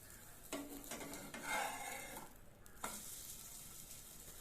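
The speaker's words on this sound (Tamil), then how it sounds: "மீடியம் ஃப்ளேமில் தான் வச்சுருக்கேன், அப்போ தான் நல்லா வேகும். ஒரு 2 தரம் இப்படி திருப்பி போட்டுக்கணும்." Egg-dipped bread omelette cooking in a pan over a medium flame, a soft, quiet sizzle with a few brief scrapes and taps as the slice is turned.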